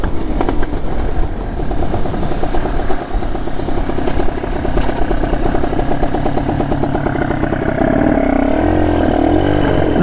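A motorcycle engine running steadily in first gear before a start, loud and close with an even rumbling drone throughout and a slight change in tone near the end, no talking.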